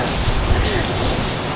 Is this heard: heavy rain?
yes